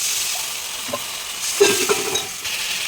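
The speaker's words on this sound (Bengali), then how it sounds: "হলুদটাকে একটু হালকা করে নেড়ে করে ভেজে নিলাম এবার একটু জল দিয়ে কষিয়ে নেবো" Turmeric masala frying in a pan as water is added gives a constant bright sizzling hiss, with a brief louder bubbling burst and a few stirring sounds near the middle, close up and without speech.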